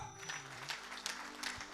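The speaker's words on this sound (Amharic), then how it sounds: "አጨብጭቡ ለጌታ።" A church congregation claps at a gospel service, a few soft, evenly spaced bursts of clapping over a low tonal hum, fairly faint overall.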